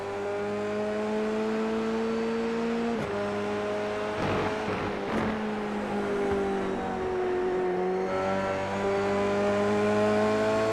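Onboard engine of a Formula 3 race car at the Red Bull Ring, heard continuously and up close. The note climbs steadily through the gears with brief shift dips, then backs off and builds again.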